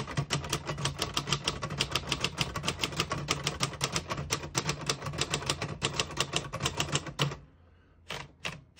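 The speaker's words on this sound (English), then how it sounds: "I'll type a sentence on the next line." A 1958 Royal Futura 800 portable typewriter clacks through a rapid run of keystrokes close up, a dense steady rhythm that breaks off near the end with a pause and a few last strikes.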